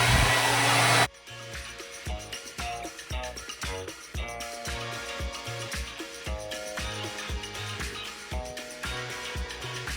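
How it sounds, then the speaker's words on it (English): A hair dryer blows loudly at full power, a steady, close, broadband rush lasting about a second while hair is blow-dried, then it stops abruptly and music takes over. "I think I'm gonna blow dry it just so it can be a little straighter"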